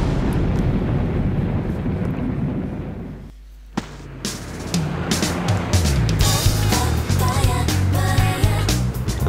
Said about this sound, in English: And After Effects explosions.